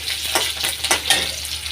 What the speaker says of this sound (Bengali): এখন দিয়ে দিচ্ছি রসুন বাটা আর আদা বাটা।